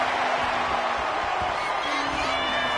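A video game arena crowd in WWE 2K25 cheers at a wrestling match, a constant dense roar with whoops rising through it, heard under a commentator talking.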